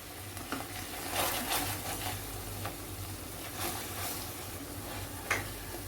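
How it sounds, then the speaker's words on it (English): Flour being stirred into a chicken macaroni mixture in a pan, a steady soft scraping and gentle sizzle running throughout, close and moderately quiet with occasional clicks of the utensil. "I'm adding now 2 tablespoons all-purpose flour, maida"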